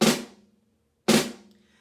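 Two separate drum flams struck with sticks, left hand first, each a crisp double-edged hit that rings briefly and decays in a quiet room, about a second apart with no talk.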